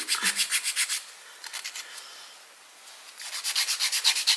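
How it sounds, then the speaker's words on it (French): Wood is sanded by hand in a workshop where ornaments are painted, with rhythmic back-and-forth rasping strokes in two quick bursts separated by a brief quieter pause, close and alone. "Donc on va poncer ici."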